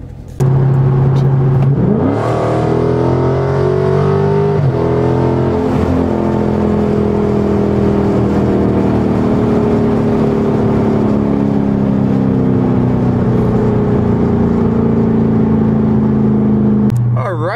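A Dodge Charger Scat Pack with the Super Track Pack cruises along a road in Mexico, its steady engine drone shifting pitch as it revs up and settles into a long sustained hum, loud and close throughout.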